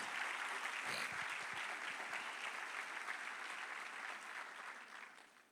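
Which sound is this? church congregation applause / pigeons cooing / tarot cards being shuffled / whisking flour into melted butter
church congregation applause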